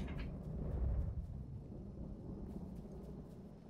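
Thunder in LEGO Fortnite, a low rolling rumble that peaks early and then fades into a long, steady murmur, fairly quiet with no talking.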